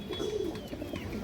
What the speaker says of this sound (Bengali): টকটকা লাল কালার একটা লাল চুল্লি নর কবুতর